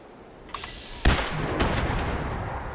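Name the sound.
gunshots from a laser sniper rifle in a video game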